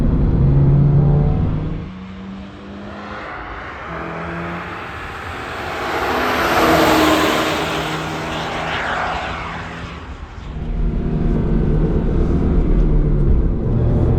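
A 2022 Subaru BRZ on RE-71RS tires with a 4.3 differential drives on a race track. Its loud engine roars near, dips, swells to a peak as it passes, then settles back to a steady drone.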